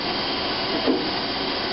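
A 2001 Traub TNL26 CNC lathe's back spindle moving, a steady loud whirring machine hum with a brief swell in the middle, no talk.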